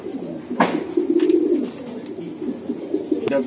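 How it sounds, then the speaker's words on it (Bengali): A racing pigeon of Python bloodline coos close by in a loft, giving low throaty rolling coos that repeat through the clip, with a few faint background sounds. "এটা খুব সুন্দর একটা কবুতর।"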